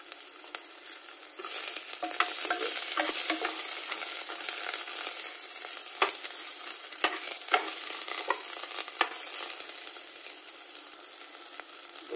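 Onion sizzles steadily in a hot pan for barracuda sinigang, a soft continuous fry with scattered scraping and stirring clicks on top.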